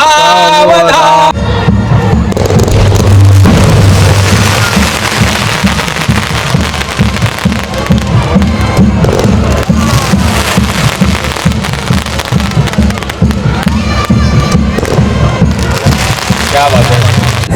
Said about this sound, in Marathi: फटाक्यांची आतिषबाजी सुरू आहे वरच्या साईडला खतरनाक